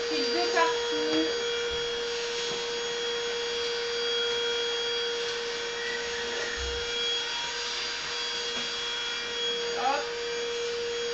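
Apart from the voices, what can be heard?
vacuum cleaner running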